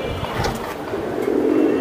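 A pigeon cooing close by in soft, low pulsing phrases over a steady background hum, with no voices.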